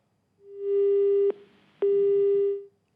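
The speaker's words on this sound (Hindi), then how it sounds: "फोन कट गया" Two steady electronic beeps, each about a second long, separated by a short gap, sound clearly over a quiet line as a phone call disconnects.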